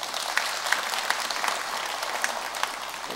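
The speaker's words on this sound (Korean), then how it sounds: "큰 박수 한번 주세요." Audience applause at a Sunday Dharma gathering at Jogyesa temple following a children's song, a steady wash of clapping from a crowd with a few sharper claps standing out, moderately distant and without voices.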